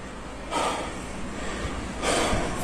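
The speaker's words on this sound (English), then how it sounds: "Why is he breathing so heavily?" A man's heavy breathing, two long noisy exhalations or gasps close to the microphone, loud and rough against a steady background hum, with no speech.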